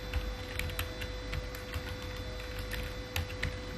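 HTML code being typed on a computer keyboard: a steady run of light, quick key clicks at close range, with no talk and a constant faint electrical hum beneath.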